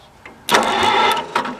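A 1948 Farmall H tractor engine cranks briefly, then pops into life and runs with a loud, rough, close-up clatter, with a couple of sharp bursts as it settles.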